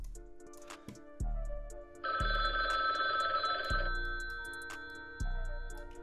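A telephone rings in repeated electronic bursts, with a steady tonal ring pattern, a brighter sustained ringtone section in the middle and ticking beats underneath, loud and close with no voices.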